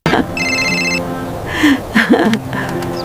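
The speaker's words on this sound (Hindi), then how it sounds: "फोन की घंटी बजती तो माँ की आंखें चमक उठती" A telephone rings with a bright electronic trill near the start, followed by faint voices and background sounds.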